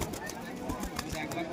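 Pigeons at a crowded pigeon market in Beldanga coo faintly within a dense wash of crowd chatter and market noise.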